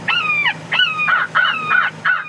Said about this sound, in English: a distress call machine that sounds like this